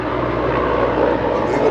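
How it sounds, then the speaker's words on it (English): A propeller plane flies overhead, a steady loud broadband engine drone that holds throughout with a slight rise in pitch toward the end, voices talking faintly underneath. "I think that's a prop plane"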